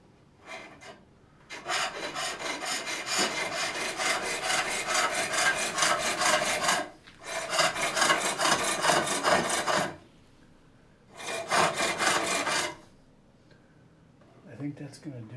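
A wooden lidded box being turned on a foot-powered pole lathe, with bursts of rasping cutting that last several seconds each, separated by short pauses as the treadle reverses; close and fairly loud, with no talking.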